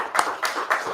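A small church audience gives a short burst of clapping, a few distinct claps in loose rhythm, fairly soft and close.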